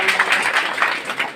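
A crowd claps at a coaching centre felicitation ceremony for Bihar Board exam toppers, a continuous, even burst of many hands, moderately loud and near, without any voices over it.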